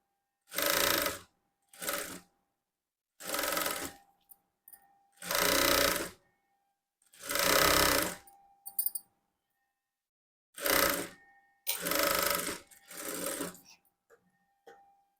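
Short bursts of a domestic sewing machine stitching a blouse neck piece, about nine separate runs of rapid needle clatter broken by silent pauses, close and fairly loud.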